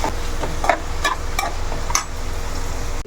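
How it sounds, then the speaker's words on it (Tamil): Spatula stirring carrot and tomato pieces in a cooking pan for a vermicelli dish, a steady soft scraping with a few distinct clinks and scrapes over a continuous low sizzle, close and fairly loud, with no talk. "இப்போ நல்லா மிக்ஸ் பண்ணிக்கோங்க"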